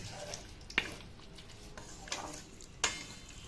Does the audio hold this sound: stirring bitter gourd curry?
yes